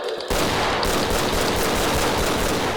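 An AK-style assault rifle fires in a Roblox shooter game, a loud, dense burst of rapid automatic gunfire that begins abruptly and continues without pause, with no talking.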